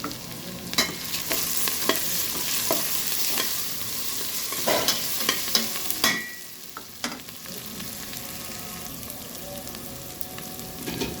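Chopped onion, ginger and garlic sizzle and fry in a pan while a spoon stirs and scrapes, giving steady hissing with regular clicking taps, close by and moderately loud.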